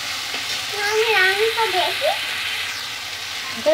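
Fish frying in hot oil for a mourola fish jhaal, a steady soft sizzle with faint stirring scrapes, close and even throughout, while a voice talks over it.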